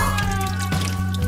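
Cold spring water pours continuously at the Szent-Györgyi Albert spring on a steep Börzsöny forest road, a loud, close, steady splashing stream with no talking.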